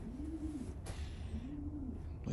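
Racing pigeons in a loft give soft, low rolling coos, two drawn-out calls with a brief rustle between, close and gentle against quiet background.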